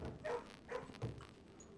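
A puppy in the video game Blue Prince barks three times in quick succession, short yips spaced about half a second apart, moderately loud and alone with no talking.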